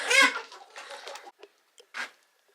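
A few soft chicken clucks and murmurs, close by, in short bursts followed by brief quiet gaps.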